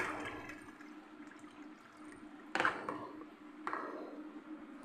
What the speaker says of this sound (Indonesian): Kita buang air panasnya.